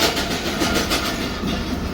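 The Zakariya Express, just departed from Karanda railway station, rumbles steadily along the rails with a rhythmic clickety-clack over a low, continuous drone.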